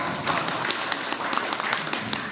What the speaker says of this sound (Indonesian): Oke, aplaus dulu untuk Bapak.